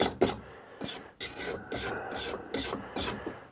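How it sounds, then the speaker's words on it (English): Wire brush scrubbing an aluminium alloy sump back and forth to clear contamination before a weld repair, a run of close rasping strokes in steady rhythm with brief pauses between them. "you brush either back or forward and it brushes all the contamination off"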